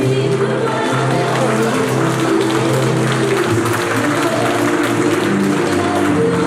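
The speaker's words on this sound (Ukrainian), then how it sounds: "Глядачі серед них і батьки, і родичі учасників, випускники ансамблю та усі поціновувачі талантів танцівників не шкодували оплесків" An audience claps steadily through a ballroom dance ensemble's anniversary concert, dense applause filling the hall throughout with a low musical hum beneath.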